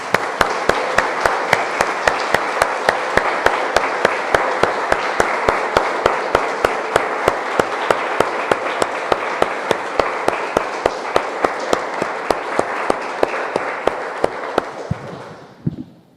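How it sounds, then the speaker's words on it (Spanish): A church congregation claps in unison, sharp regular beats in a steady rhythm that carry on loud and close for a long stretch before fading out at the end. "Damos un aplauso, hermanos, al Señor"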